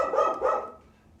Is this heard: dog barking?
yes